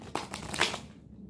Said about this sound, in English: I shuffle my cards how I want to